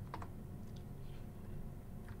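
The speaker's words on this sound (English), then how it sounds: "So I'm using keyboard shortcut" Keys on a computer keyboard tapped as shortcuts in an Excel spreadsheet, a few quick clicks near the start and another near the end over a steady low room hum.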